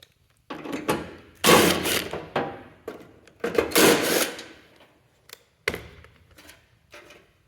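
Small 7mm head bolts being backed out of the plastic on a 2016-2018 Chevy Silverado front bumper fascia, heard as a series of short, close mechanical whirring bursts separated by brief pauses.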